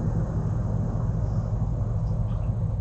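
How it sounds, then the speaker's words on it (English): Steady low computer hum and fan noise picked up by a webcam microphone, a continuous broadband drone that stays constant and fairly loud throughout, with no speech. "you can hear a lot of background noise coming from my computer in the background"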